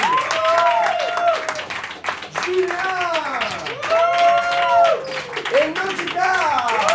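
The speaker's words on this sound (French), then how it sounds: "On les applaudit bien fort" An audience claps for improv players at a Paris improv festival, a steady wash of applause running beneath an announcer's voice calling out names.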